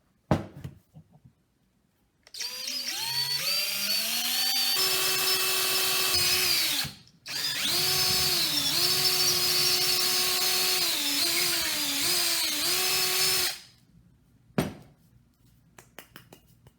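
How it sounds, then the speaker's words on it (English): A power drill with a small bit bores a center hole in a block of wood for a homemade trench club, whining loudly and steadily in two long bursts separated by a brief pause, with pitch dips as the bit bites. "So I'm going to start with the smaller drill bit and go right in the center."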